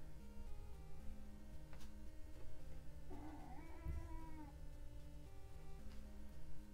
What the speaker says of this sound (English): If you missed my cat before, she is back.